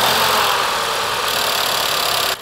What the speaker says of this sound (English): we can start our car up